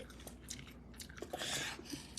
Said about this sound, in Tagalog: kagat lang ng konti